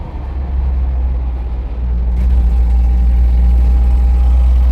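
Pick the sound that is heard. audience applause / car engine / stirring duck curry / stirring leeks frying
car engine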